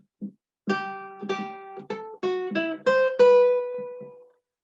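A short melody of single synthesized notes plays alone, about eight notes in an uneven rhythm, the last held longer before fading out.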